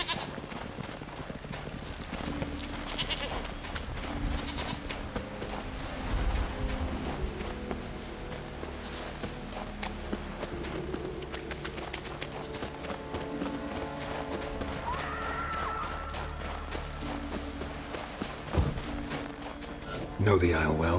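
Horse hooves clip-clop steadily on the ground in The Witcher 3 game, with a brief whinny or animal call partway through, heard under a dense layer of game music and ambience while voices talk.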